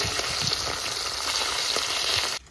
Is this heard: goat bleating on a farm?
no